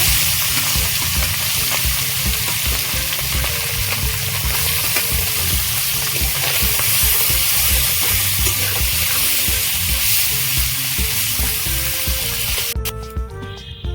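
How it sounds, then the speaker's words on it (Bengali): Gang mouti fish frying in hot oil in a home kitchen, a steady dense sizzle running nearly the whole time with occasional stirring clatter, then cutting off abruptly near the end. "বাকি মাছগুলো ভেজে নেব"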